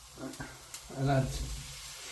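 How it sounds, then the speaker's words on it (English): Beef returned to an aromatic curry pan and stirred: a soft sizzle with brief scraping from stirring, while someone talks over it. "the beef back. Give this a stir in."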